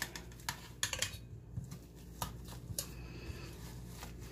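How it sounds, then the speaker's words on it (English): Boiled whole potatoes with salt and pepper mashed by hand, a soft series of irregular squelching presses and taps, quiet and close with no talk. "And I'm just going to mash."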